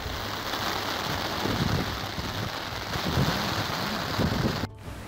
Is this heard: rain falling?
yes